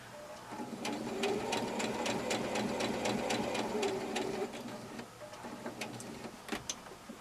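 A sewing machine stitches a patch pocket onto fabric in a steady rapid run, briefly pausing near the end for a pivot at a corner, then resuming with a few shorter bursts and clicks.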